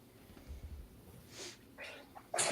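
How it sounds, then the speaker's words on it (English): A person sneezes, a sharp burst near the end after a couple of softer breathy intakes and rustles, close and fairly loud against a quiet background. "I have to sneeze too."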